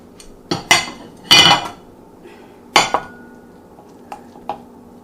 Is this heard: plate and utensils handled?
yes